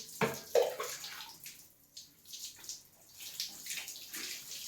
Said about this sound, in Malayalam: നല്ല ചൂട് വെള്ളത്തിൽ കുളിക്കുക.